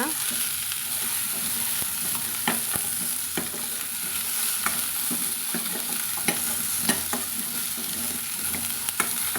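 Chopped chayote sautés in oil with a steady close sizzle, while a spoon scrapes and taps against the pan in irregular strokes throughout, with no speech.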